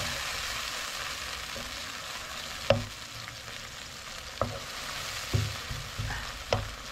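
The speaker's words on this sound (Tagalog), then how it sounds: "Nilalagay na ko na dito yung ating toyo. Kasi nga para maluto na yung toyo." Soy sauce sizzles in a hot pan while cooking for a Filipino adobo-style biryani, a steady broadband frying hiss with occasional sharp pops and clinks of a utensil stirring, moderately loud and with no talking.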